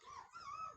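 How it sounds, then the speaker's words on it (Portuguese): A dog whimpers and whines in a faint, short, high-pitched wavering cry, heard alone and at a distance. "Ei, cachorro!"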